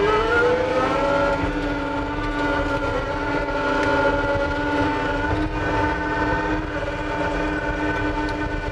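A Minotaur grader makes a grading pass, its engine giving a loud, steady drone with strong low rumble and sustained harmonic tones throughout.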